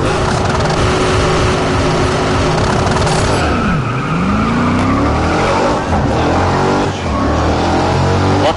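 Race cars roar through a round of the racing video game Grid, a loud sustained engine note with a sharp downward pitch sweep as a car passes close, followed by revving climbs and tire squeal.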